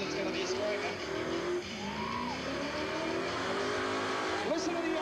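A Holden car does a burnout at a club event, its engine revving hard while tyres squeal in rising and falling pitches, with crowd noise and a voice over a busy roar.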